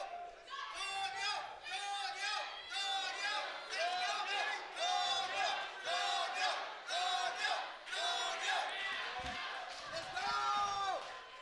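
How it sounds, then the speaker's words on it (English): A Muay Thai crowd at the RUF53 Muay Thai Super Series main event chants the fighter's name Antonio in a rhythmic, repeated two-beat pattern, loud and continuous, with stamping or clapping accents under the chant. "A crowd chants Antonio."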